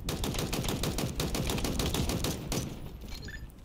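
Rapid machine gun fire in Halo Infinite during a ranked free-for-all match, a dense rattling burst of close, loud shots that runs for nearly three seconds before cutting off.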